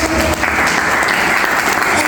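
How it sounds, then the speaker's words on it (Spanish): A church congregation claps loudly and steadily during a Spanish-language worship testimony, the dense applause filling the whole short stretch without a break. "Dale las fuertes palmas al Dios poderoso."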